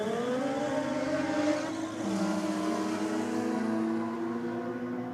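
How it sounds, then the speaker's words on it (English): Toyota Supra and a rotary-engined car launching side by side in a roll drag race, loud high-revving engines climbing in pitch through gear changes, a sustained layered roar over crowd ambience. "Both cars fighting for some traction out of the hole, but the Supra coming around for the win"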